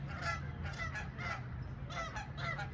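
Geese honk in a series of bursts, several overlapping calls rising and falling against a steady low background hum, fairly close and with no talking.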